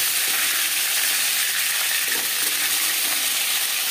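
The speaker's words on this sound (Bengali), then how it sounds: "একটা সাইড ভাজা হয়ে গেলে অপর সাইডটা উল্টে দেব।" Shol (snakehead) fish sizzles steadily as it fries in hot oil in a pan, a constant dense hiss without pause and with no voices.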